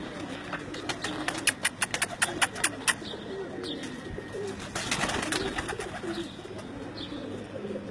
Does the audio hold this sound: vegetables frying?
no